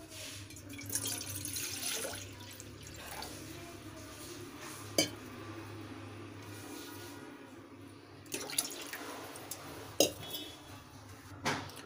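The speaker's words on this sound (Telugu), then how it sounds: "ఇందులో కొంచెం వాటర్ పోసుకుందాం." Water poured into a cooking pan on a stove for ghee Maggi noodles, a quiet running splash with a few sharp metallic clinks of the pan and utensils scattered throughout.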